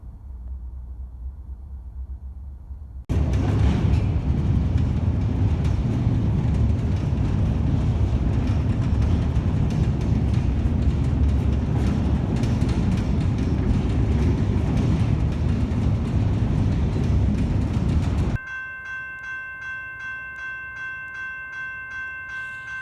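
An Amtrak passenger train in Arizona, between Phoenix and Ash Fork, rumbles along loudly with a steady, dense roar for about fifteen seconds, framed by quieter interior hum before and a tonal electrical whine after.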